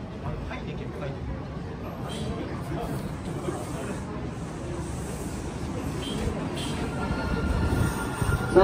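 Train rumbling and screeching as it pulls into a platform at a Japanese railway station, with a steady low roar of wheels on rails and a faint murmur of people underneath.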